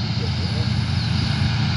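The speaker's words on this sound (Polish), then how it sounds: "Ciągnik Zetor Major." A Zetor Major tractor engine runs at an agricultural machinery show in Kamień Śląski, Poland, with a steady, close, low droning rumble while a voice speaks over it.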